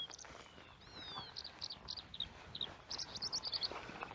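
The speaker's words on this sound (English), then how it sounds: "Can you hear the birds?" Several birds chirp and whistle nearby, bright short tweets and a rising call repeating in quick bursts over faint background noise.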